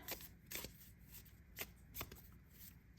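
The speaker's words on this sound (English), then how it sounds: "with round decks, I like to shuffle overhand" Tarot cards are shuffled overhand by hand in soft, papery bursts that repeat at an uneven rhythm, quiet and close with no talking.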